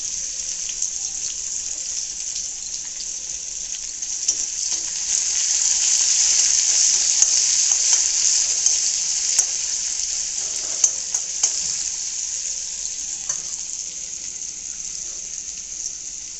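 Chopped onion sizzles steadily in a pan, a bright continuous hiss with occasional faint ticks and clinks, close and unbroken, with no voices.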